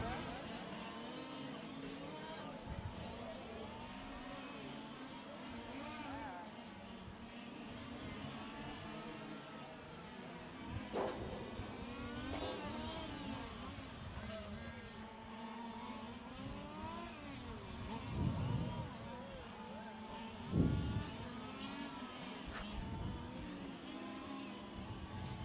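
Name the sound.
fifth scale RC race cars racing on track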